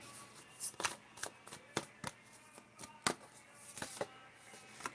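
Oracle cards being shuffled in quick riffling bursts, a series of sharp papery snaps spaced irregularly, close and moderately loud.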